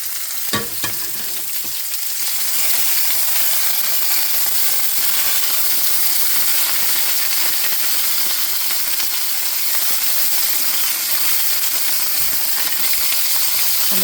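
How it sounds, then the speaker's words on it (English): Pork fresh from a sous vide bath sears in a hot pan with a loud, steady, close sizzle and crackle that runs unbroken for the whole stretch; no one speaks. "there's that beautiful sear starting to happen"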